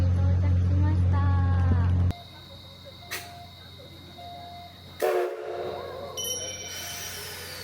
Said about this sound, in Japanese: 次の旅へと準備に向かう SL 山口号を見送ります。